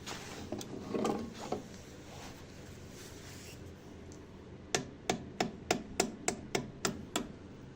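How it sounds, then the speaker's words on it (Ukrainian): Light, evenly spaced metallic taps from a light hammer on a metal part during assembly of a Minsk 200cc motorcycle, about a dozen in a steady rhythm, following a stretch of duller knocking and background noise. "Візьми легенько молотком побий."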